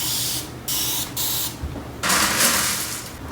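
Several short hissing bursts of a spray bottle onto alocasia house plant roots, close up, followed by a longer continuous spray.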